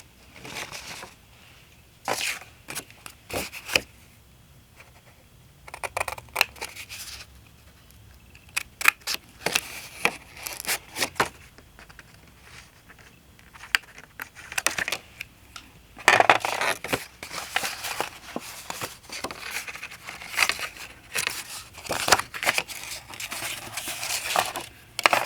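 Scissors snip and crunch through a paper file folder in bursts of sharp clicks and crinkles, separated by quieter pauses, close up and with no talking.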